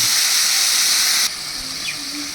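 Cumin, ginger and chili paste hits a hot frying pan, giving a loud, steady broadband sizzle that drops abruptly partway through and continues as a softer hiss.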